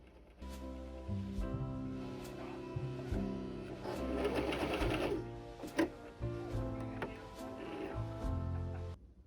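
Sewing machine stitching a quilted tote bag, with bursts of rapid mechanical whirring that start, pause and resume in short runs, close and moderately loud with faint voice in the background.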